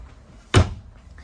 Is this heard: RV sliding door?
yes